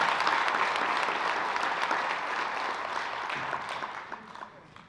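A room full of people gives a round of applause for a teen of the month at a community recognition event, brisk dense clapping that starts strong and gradually tapers off toward the end.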